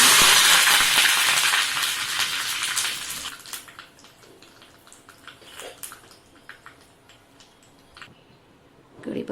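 Curry leaves and mustard seeds hitting hot oil to temper a Maharashtrian aambedal, giving a loud hissing sizzle for about three seconds that settles into faint, scattered crackles.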